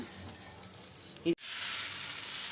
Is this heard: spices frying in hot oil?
yes